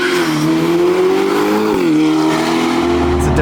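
A Novitec-tuned Ferrari Portofino M with 688hp, sport cats and a cross pipe, its exhaust revving loud and close, the engine note climbing, dipping briefly, then rising again in one continuous roar.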